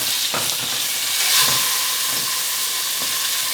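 Loud, steady hiss of a beef roast searing in a hot pan as it is turned with two forks, with a few dull knocks and scrapes breaking through the continuous sizzle.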